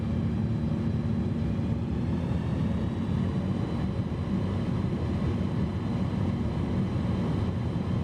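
Steady, loud airplane engine drone in Microsoft Flight Simulator 2020 during a bush-trip takeoff with full flaps, a continuous low rumble holding unbroken throughout with no talking.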